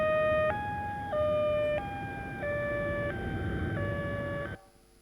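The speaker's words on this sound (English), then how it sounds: "So the first example is a siren sound," A computer-simulated two-tone siren passing on a road, alternating between high and low pitches about every half second, loud and steady, then cutting off abruptly near the end.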